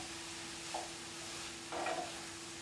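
Garlic sizzles in a pan as the base for a creamy chicken poblano chili, a steady close fry with two brief stirring scrapes rising over it, no voices.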